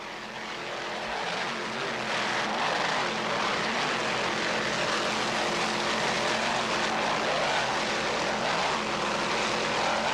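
Roaring engines of B-class offshore racing powerboats, Mr. K and Dragon Lady running bow to bow on a short-course straightaway in the 1995 Harbor Town race, a loud, steady, continuous drone filling the whole stretch.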